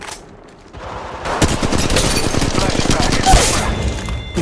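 Rapid automatic gunfire from a battle in Apex Legends Mobile, with Ash in play, erupts after a quieter opening and rattles on in dense, loud, continuous bursts for several seconds.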